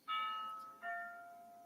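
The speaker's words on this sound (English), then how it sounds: "I'm going to wait for my alarm clock to start chiming" Two sustained electronic chime tones from an office alarm clock at noon, the second one lower in pitch, each ringing clearly and fading slowly, with no voices.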